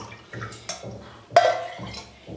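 Water is poured from a glass into a pot of chopped spinach in a home kitchen, a few short splashing gushes with brief pauses between them, close and fairly clear.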